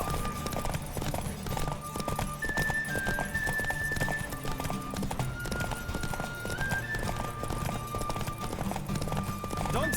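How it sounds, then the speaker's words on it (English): Horse hooves clip-clop at a steady gallop during a race in The Witcher 3 game, continuous and close, with occasional whinnies and music-like tones layered over the running. "Don't spare the horse!"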